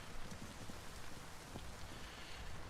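Steady rain in a video game, falling as a continuous broadband patter on a surface at a fairly quiet level, with no voices.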